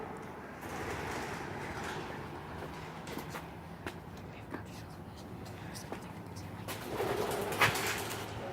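Birds cooing inside a tunnel, soft repeated low coos echoing at a moderate distance under quiet whispered voices, with a few clicks and a louder burst near the end.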